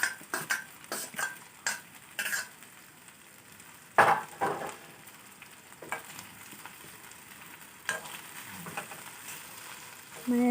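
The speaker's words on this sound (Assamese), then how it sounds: "এতিয়া বইল কৰা চাওমিনখিনি দি দিছোঁ, আৰু এইখিনি অকণমান সময় ভাজিম।" Boiled chowmein noodles fry in a hot pan under a soft sizzle, while a spoon scrapes and tosses them in a series of quick, close strokes followed by quieter stretches.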